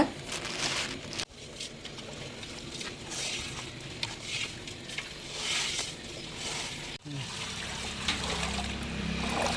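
Fish pieces being washed in water for a fish curry at a family feast, sloshing and trickling water with handling noises and a couple of sharp knocks, steady and close.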